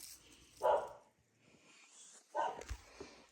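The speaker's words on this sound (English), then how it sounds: "I have a miniature border collie, and you can hear her now" A miniature border collie gives two short, sharp barks a couple of seconds apart, fairly close, with faint rustling between them.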